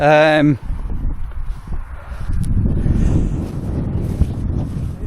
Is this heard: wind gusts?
yes